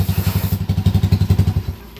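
A 200cc motorcycle engine with a four-speed transmission idles with a loud, steady thumping pulse, then cuts out abruptly as it is switched off, leaving near silence.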